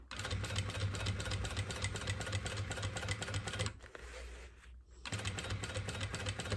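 A Jack industrial sewing machine stitches in a steady, fast mechanical rattle with a low motor hum, pausing briefly for about a second before resuming at the same pace.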